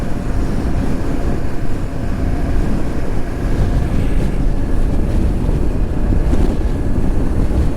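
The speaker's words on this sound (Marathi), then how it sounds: "खूप वारा आहे, त्याच्यामुळे बाईक जी आहे तर ती अशी स्टेबल चालत नाही" Strong, steady wind roaring and buffeting against the microphone while riding a motorbike on the road from Kishangad toward Sisu on a Ladakh trip, loud and continuous throughout with no talking.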